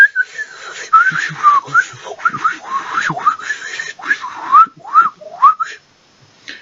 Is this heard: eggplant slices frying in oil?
no